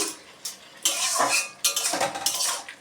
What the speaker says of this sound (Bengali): এবার ঢাকাটা খুলে দেখি কতটা সেদ্ধ হলো